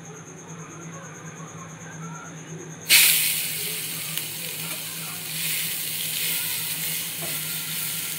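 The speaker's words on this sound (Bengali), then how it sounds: "ঘি দিয়ে গাজরটাকে ভেজে নেব, তাহলে কাঁচা গন্ধটা থাকবে না।" Grated carrot dropped into hot ghee in a frying pan, quiet at first, then a sudden loud sizzle that settles into a steady crackling hiss.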